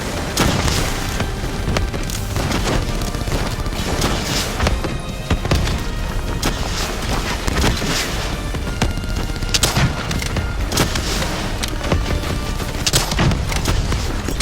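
Continuous loud gunfire and booming blasts in the video game Call of Duty: Black Ops, a relentless barrage of rapid shots and explosions with no pause.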